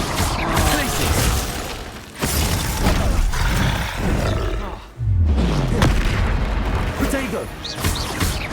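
Repeated Glacius freezing-spell casts ring out during combat in Hogwarts Legacy, loud bursts and booming impacts in quick succession with brief dips between them, mixed into dense battle noise.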